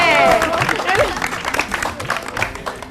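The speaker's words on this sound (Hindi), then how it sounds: "ओह तालियां तालियां" Studio audience on a morning TV show breaks into a short burst of applause and clapping, mixed with crowd noise and a voice talking over it.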